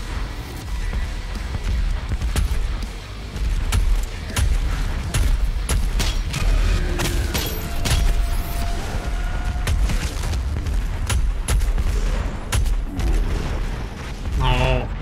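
Dense video game combat with repeated explosions from sticky bombs and bursts of gunfire, a steady busy din of sharp bangs and crackling shots layered together throughout, with voices talking over the action.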